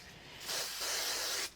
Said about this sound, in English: I'm going to add a little bit of spray glue to the back of the white one